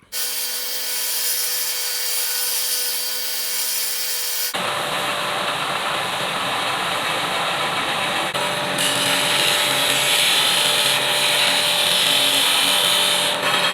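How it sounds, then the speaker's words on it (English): A belt sander and a disc sander shape a knife blade made from scrap bed frame steel, a loud continuous motor whine and grinding rasp, with the pitch shifting abruptly as the tools change. "Just the combination of the belt sander and disc sander there."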